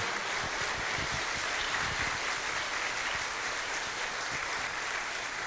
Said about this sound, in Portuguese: Você pode aplaudir em Cristo Jesus?